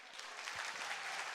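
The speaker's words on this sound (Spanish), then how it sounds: "Yo creo que nos merecemos un aplauso por frikis." An audience at a church jubilee vigil homily breaks into steady, dense applause, a continuous wash of clapping heard alone at moderate distance throughout.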